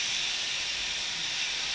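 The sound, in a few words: meat sizzling in a hot pan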